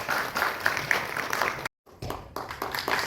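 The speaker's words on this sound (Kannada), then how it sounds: "ಚಪ್ಪಾಳೆ ತುಸು ಜೋರಾಗಿ ಬರಲಿ" An audience at a youth empowerment and sports department event, a women's day celebration, claps in a steady patter, briefly cut off by a short gap of silence before the clapping resumes.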